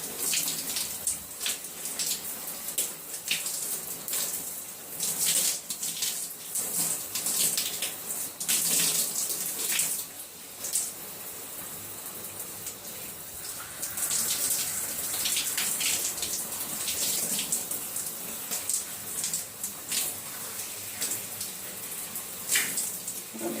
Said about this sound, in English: So I'm going to start rinsing out, starting with the back.